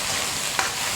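Celery, garlic sprouts and lettuce stem stir-frying in hot oil in a wok, a loud continuous hiss with one sharp clatter midway.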